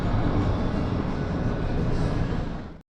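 A Mexico City metro train pulls away from the platform with a loud, continuous rumbling roar that holds steady before cutting off abruptly.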